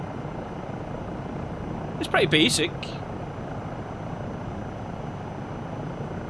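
Continuous rotor and engine hum of a Eurocopter EC135 helicopter in MSFS 2024, a steady even drone with someone briefly speaking over it.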